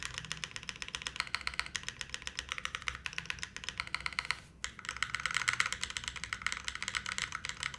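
Someone types rapidly on a taped QK80 mechanical keyboard, producing a dense, steady stream of close, crisp clacks that pauses briefly once midway and then resumes, with no talking.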